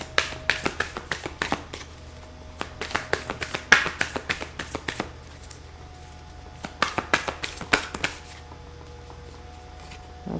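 Tarot cards are shuffled, tapped and laid onto a table in quick bursts of crisp clicks and slaps, then a quieter pause before another flurry of handling.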